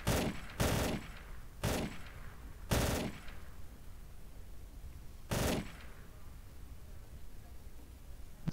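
Gunshots ring out in a World War II German infantry video game, with five sharp, loud cracks in an uneven sequence and echoing tails, followed by a quieter stretch.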